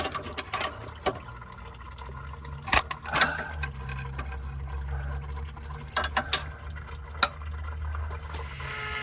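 Transmission fluid trickles and drips slowly from a torque converter during a transmission swap on a T1N Sprinter van, with occasional clanks and knocks of tools against metal nearby.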